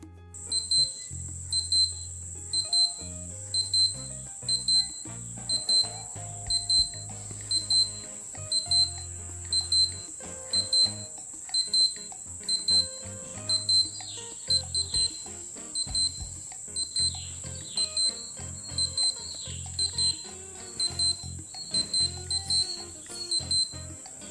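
A high Casio digital watch alarm beeps in rapid repeating bursts over a steady pulsing rhythm, continuing clearly and evenly throughout.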